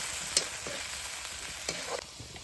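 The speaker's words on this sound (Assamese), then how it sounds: "এইখিনি অকণমান দেৰি ভাজি ল'ম যেতিয়ালৈকে এইখিনি তেলটো এৰি নিদিয়ে তেতিয়ালৈকে এইখিনি আকৌ ভাজি ল'ব লাগিব" Jackfruit pieces frying in oil for a curry, with a steady soft sizzle and a few brief clinks of stirring throughout.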